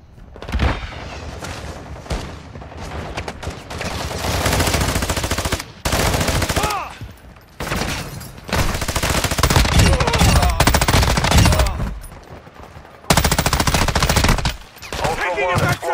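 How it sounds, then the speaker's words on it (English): Video game gunfire in a tactical military shooter, loud bursts of machine-gun fire and rapid shots in long sustained volleys, broken by short pauses and occasional booming thuds. "You are taking effective fire."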